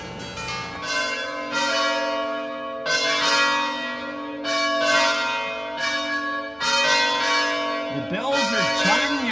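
Church bells ring out at the Monterosso al Mare monastery on the Italian Riviera, a series of loud, resonant strikes with long ringing decays overlapping one another, heard close and clear.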